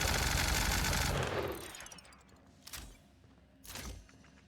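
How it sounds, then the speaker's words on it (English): A Spectrum Gatling gun in The Outer Worlds fires a loud, sustained rapid stream of shots for over a second, then stops, followed by two separate sharp impacts in the quieter tail. "It's a Spectrum Gatling. It shoots out like every kind of damage"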